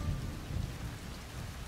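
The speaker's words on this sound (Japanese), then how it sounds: "雨は気にせんぞ" Steady heavy rain with deep rumbling thunder in the stealth video game Shadow Tactics, a continuous hiss over low booming rolls, no voices.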